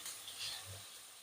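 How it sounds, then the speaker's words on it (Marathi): Onion sautéing in a pan for a capsicum curry, giving a soft, steady sizzle and hiss that stays faint and close throughout the brief moment. "कांदा सर्व अर्ध्या मिनिटापर्यंत परतून घ्यायचं"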